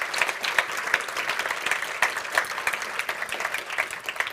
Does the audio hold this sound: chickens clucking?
no